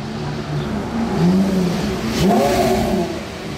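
A Bugatti supercar accelerating past in a street near a casino square, its engine note rising and falling as it passes close by, loud over busy outdoor ambience.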